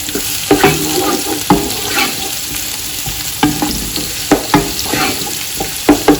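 Spring onions frying in oil in a pan, loud and close, with a continuous sizzle and regular spatula scrapes and knocks every second or so.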